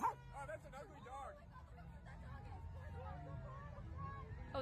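A dog yips and barks in short, repeated bursts, some sounding whiny, against a background of crowd babble and speech.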